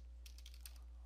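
A few quick keystrokes tap on a computer keyboard, soft and close over a steady low hum.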